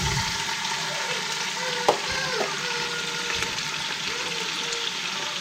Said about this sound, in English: we're going to saute the vegetables